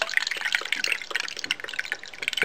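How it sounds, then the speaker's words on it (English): Eight ounces of liquid chemical poured from a container into a disposable cup, giving a close, steady trickle and splash that runs for a couple of seconds with no voices. "I'll just pour in my 8 ounces."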